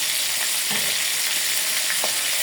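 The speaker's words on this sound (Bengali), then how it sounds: "একটু হালকা একটু ভাজিয়ে নেবো" Onion, green chili, ginger and garlic paste fry in hot oil with a loud, continuous, close sizzle and occasional faint stirring touches, with no voices.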